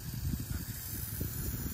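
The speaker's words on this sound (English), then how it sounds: "Don't you want me to spray you down, Annie?" A hose sprays water down onto farm animals in a pasture, a steady close hiss that runs without break.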